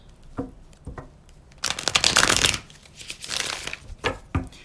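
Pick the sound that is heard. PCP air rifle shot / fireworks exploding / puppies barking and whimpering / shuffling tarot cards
shuffling tarot cards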